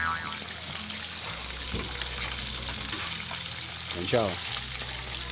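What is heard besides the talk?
gourami fish frying, oil spattering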